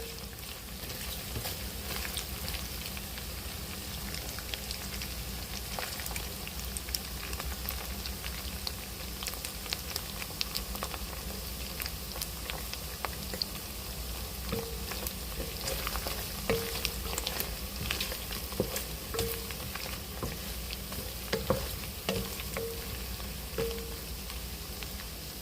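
Pork fries in a pan with a constant, dense crackling sizzle and scattered sharp pops of spattering oil, steady and close over a long stretch, no voices.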